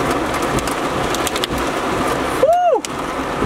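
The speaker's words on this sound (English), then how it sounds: "My car is getting absolutely destroyed by this hail." Hail and heavy rain pound a car, heard from inside as a dense, steady, loud roar of impacts that continues without a break, joined near the end by a brief rising and falling tone.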